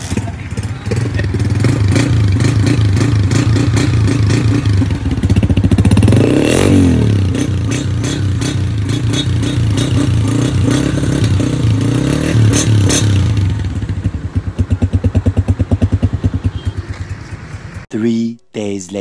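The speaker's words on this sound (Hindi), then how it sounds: "अभी आपको साउंड चेक करवाते हैं इस बाइक का भी" A motorcycle engine runs close and loud, revving up midway then returning to a steady idle thump, with voices briefly audible over it before it cuts off.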